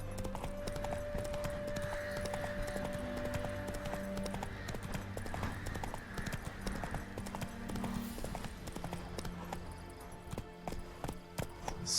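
Roach, Geralt's horse in The Witcher 3, trots with rhythmic clip-clop hoofbeats. The hoofbeats run continuously and loud throughout the clip, with faint game ambience underneath.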